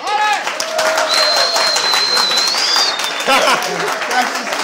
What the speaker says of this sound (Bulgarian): Ръкопляскане.